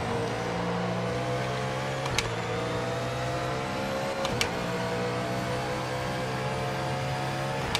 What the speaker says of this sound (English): Got the Holden going, finally.